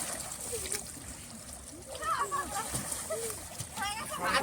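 Soft splashing and sloshing of water as someone bathes in the Ganges, faint and intermittent, with voices talking in the background.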